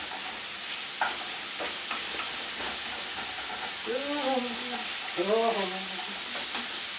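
Food fries in a pan while it is shaken and stirred around, with a steady sizzling hiss, a few soft knocks, and some brief vocal sounds partway through.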